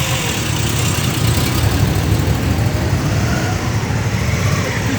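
An old Moto Guzzi motorcycle engine idles close by, a steady low rumble with a continuous even throb that holds constant throughout.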